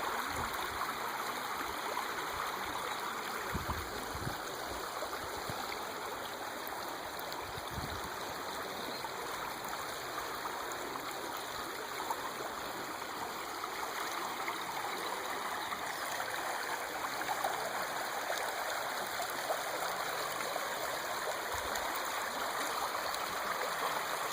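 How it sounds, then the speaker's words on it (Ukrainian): Water flowing over stones in the shallow Bystrytsia River, a continuous bubbling rush that stays even throughout, with no voices. "Не знаю, чи вам камера передає звук настільки, як вода біжить."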